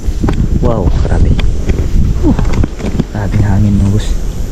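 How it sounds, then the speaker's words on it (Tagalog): Heavy wind rumbles and buffets the microphone throughout while a person talks over it. "Grabing hangin"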